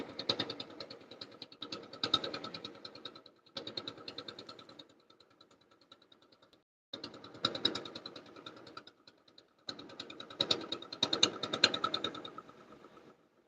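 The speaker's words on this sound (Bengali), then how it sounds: "নৌকা এখানে থামবে এখন" A river boat's engine chugs in a fast, knocking rhythm, running in loud bursts broken by short pauses where it drops out or fades to a low idle.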